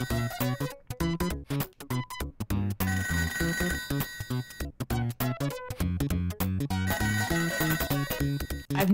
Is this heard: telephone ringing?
yes